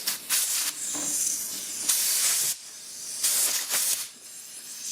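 Spray nozzle hissing on an abandoned Honda four wheeler during a grip removal, several loud bursts of a couple of seconds each separated by short pauses, close up.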